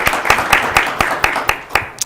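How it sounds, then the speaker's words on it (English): A handful of people clap in slow, even unison at a school board meeting, about eight separate claps roughly a quarter second apart, close and distinct with a little room echo. "You can clap for that."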